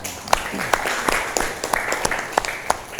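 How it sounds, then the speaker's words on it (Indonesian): Students in a classroom give a short round of applause, scattered sharp claps over a soft murmur for about three seconds, with a few voices faintly underneath. "Tepuk tangan"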